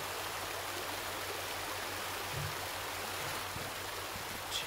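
Water pours onto a burning wreck in Resident Evil 2, a steady broadband rushing wash like a stream, even and sustained with a faint low hum beneath and no voices.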